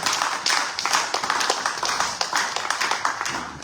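A church congregation claps in rhythm during worship, steady sharp claps continuing throughout without a break, loud and close.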